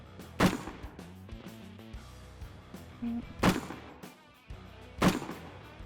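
Rifle shots fired at an army shooting range, three loud sharp reports spaced roughly a second and a half apart, heard close over a low background with music underneath.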